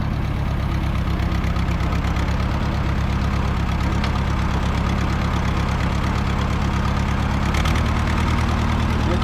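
An Oliver Super 44 tractor engine runs steadily with a rapid chugging beat and a slight miss in its rhythm, loud and close throughout with no talk.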